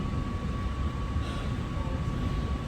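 A train in Northern Ireland bound for Grand Central rolls along, giving a steady, continuous rumble from on board, with a faint sustained whine running throughout.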